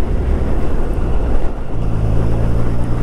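Superbike cruising in sixth gear on a city road, a low steady engine drone buried under heavy wind buffeting on the microphone, close and continuous with a slight dip midway.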